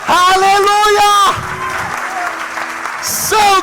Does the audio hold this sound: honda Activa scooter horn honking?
no